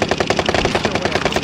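Rapid automatic gunfire in Call of Duty Warzone on Rebirth Island plays as a loud, close, sustained burst of evenly spaced shots.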